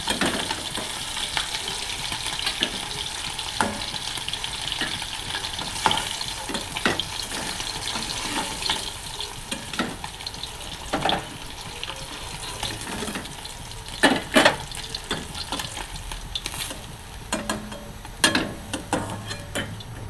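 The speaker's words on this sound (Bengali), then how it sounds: "মাছটা হালকা ভাজা হয়ে গেছে এবার তুলে নিন" Fish frying in hot oil in a home kitchen gives a steady, close crackling sizzle, with sharp spatters and a few scraping stirs, and no voices.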